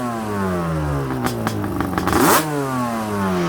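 A Yamaha Banshee's 421 engine, on a neglected machine brought back after years of abuse, idles with a steady buzz, then revs in quick rising blips to a sharp peak and drops back to idle, close and loud.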